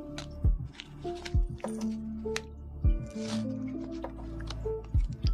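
Tiny plastic diamond painting drills from Diamond Drills USA are poured into a container in soft bursts of rattling trickles, close and fairly quiet, with gaps between pours and a few light taps.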